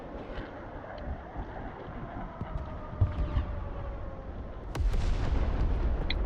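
Airstrike explosions in the combat game Broken Arrow give a rumbling, windy battlefield bed with scattered dull thumps, then a sharp blast near the end followed by a sustained heavy roar.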